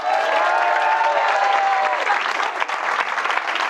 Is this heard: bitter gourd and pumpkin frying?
no